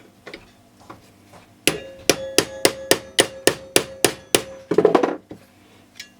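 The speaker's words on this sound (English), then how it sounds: "Just get the hammer to start it off." A hammer strikes a big screwdriver to push a rear wheel brake cam through, giving about a dozen sharp metallic clinks in a steady, evenly spaced rhythm, close and loud, with a few lighter taps before and after.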